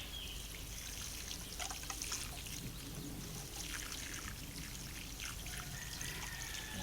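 Water poured over alpine flowers planted in stone planters, a steady close trickle and splash running continuously throughout, with no talking.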